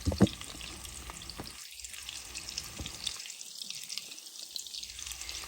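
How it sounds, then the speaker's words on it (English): Meatballs saute in a pan, giving a close, steady sizzle and hiss that fades briefly twice before returning. "We're just going to let these saute and get good and brown"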